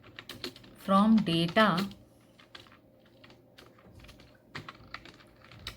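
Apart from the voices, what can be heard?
typing a MySQL query on a computer keyboard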